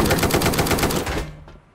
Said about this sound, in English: This is like a shredder machine gun.